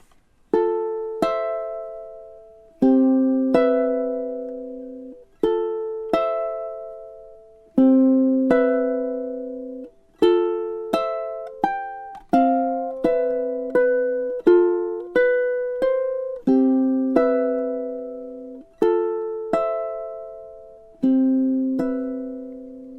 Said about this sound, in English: It's the introduction to Erik Satie's Gymnopédie